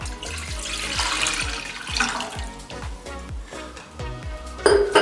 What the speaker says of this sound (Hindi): एक सॉस पैन ले लिया है, इसमें दूध डाल देंगे।